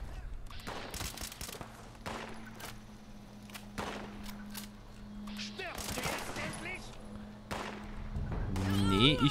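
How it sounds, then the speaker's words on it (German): Gunfire in the video game Fallout 76 cracks in a string of scattered shots and short bursts, some layered with a low steady hum, while a person talks over the action. "Hat 5 Schüsse gegen den Kopf gekriegt und trotzdem wollte er nicht sterben"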